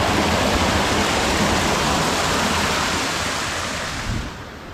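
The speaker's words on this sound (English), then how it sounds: "So check this little pond out right here. They got a waterfall." A small waterfall spills out of a pond on a hiking trail at Tillinghast Pond in West Greenwich, Rhode Island, giving a loud, steady broadband rush close by that eases slightly near the end, with no voices.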